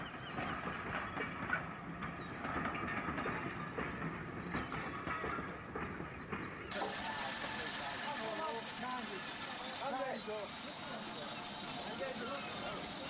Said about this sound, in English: Number 35, Freshwater, leaves for the pier station, running bunker first